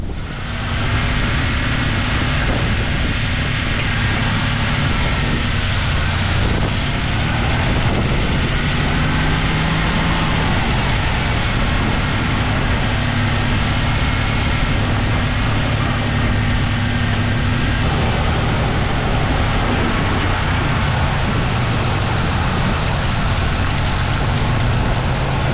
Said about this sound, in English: Let's take it for a little test drive.